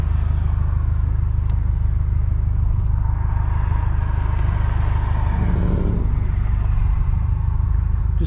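A Scion FR-S engine with a new tune rumbles steadily up close, with a low, heavy drone and a rise in revs as it pulls away.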